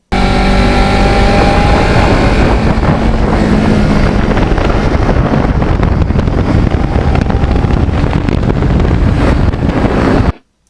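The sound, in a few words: Kawasaki Ninja 650R motorcycle riding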